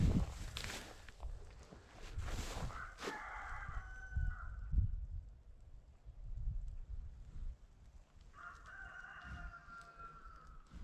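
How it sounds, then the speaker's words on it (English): A rooster crows twice on a freezing farm, the long calls rising clearly over footsteps and shuffling nearby, with scattered clucking and movement between the crows. "Hear that dumb rooster."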